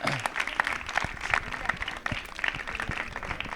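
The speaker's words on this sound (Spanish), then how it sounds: "if you could just show your appreciation with a round of applause" Audience applause at a closing ceremony as teams are called up for medals: a steady, fairly soft wash of many hands clapping, with scattered louder claps and murmured voices underneath.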